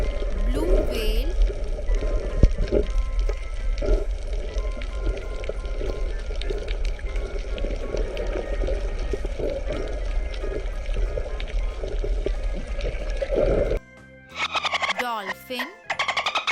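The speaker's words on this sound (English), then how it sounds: "blue whale," Blue whale call recorded underwater in the ocean: a steady deep rumble with slow wavering moans under constant watery hiss, ending in a few choppy bursts.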